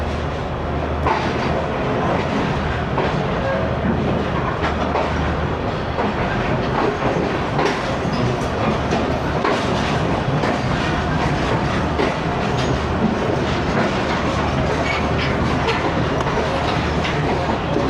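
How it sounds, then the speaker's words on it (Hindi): The Tezgam passenger train rolls along the rails with a steady, loud rumble and a rhythmic clickety-clack of wheels over rail joints, heard from inside a carriage, continuous throughout with no talk. "और फाइनली ट्रेन चली है।"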